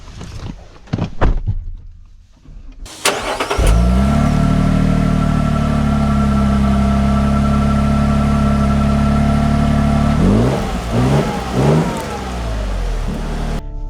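A Lexus GX550 Overtrail starts off after a couple of brief knocks, its engine rising into a loud, sustained acceleration, then easing through several shifts and revs near the end.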